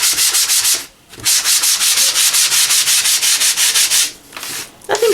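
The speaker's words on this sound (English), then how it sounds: "I'm just going to take out one of my little sanding sponges and I'm just going to give it a quick sand" A small sanding sponge rubs back and forth over wood by hand in quick, even strokes, close and loud, with two brief pauses before the scrubbing resumes.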